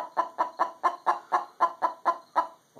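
Hen clucking after laying an egg, a rapid, steady series of about ten loud, close clucks, alone with no voices.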